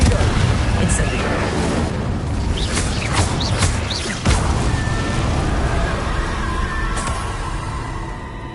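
Confringo and Incendio spell blasts in the video game Hogwarts Legacy: booming bursts and crackling magic effects layered over busy game sound, with one sharp impact standing out midway.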